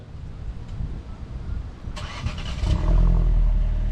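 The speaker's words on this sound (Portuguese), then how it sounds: "reparem que o carro está ligado. E dá para reparar bem por causa desse belíssimo ronco do escapamento" A 2025 Fiat Fastback Abarth starts by remote: faint background hum, a brief starter whir, then the engine catches into a deep, steady idle rumble from the exhaust, heard close and alone.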